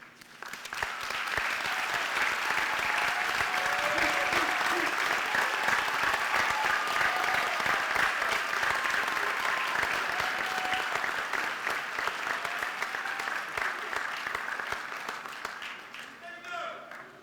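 A standing crowd applauds the honorees at a winter commencement ceremony, with long, dense, steady clapping that swells in quickly, holds full and loud, and fades near the end, with some murmured voices beneath.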